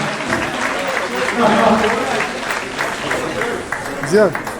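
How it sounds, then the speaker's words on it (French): An audience applauds at the 2023 Gala des Arts et de la Culture in Marrakech. The clapping is steady and close, with voices talking over it throughout. "vous applaudir très fort."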